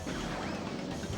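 A loud smashing crash effect from Crash Team Racing on PS1, a dense burst of breaking and clattering noise that fills the whole brief moment with no speech.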